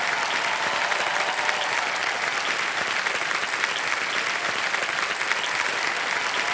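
Dense, sustained studio audience applause on the Indian quiz show Kaun Banega Crorepati, steady and loud throughout with a faint crowd murmur beneath and no voices.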